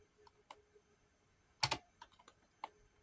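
Keys on a PC keyboard click sparsely and quietly during controller setup for DOS games, with one sharper double keystroke standing out among a few light taps.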